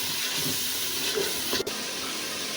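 Tomatoes and yogurt fry in a pan for mash dal, making a steady, close sizzling hiss with a single brief clunk from the pan about midway through.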